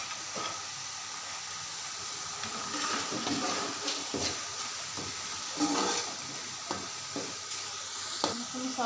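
Tomatoes with salt and chili spice frying in a pan for a white chana and chicken wings shorba, a soft steady sizzle with occasional stirring clatters, fairly quiet and close.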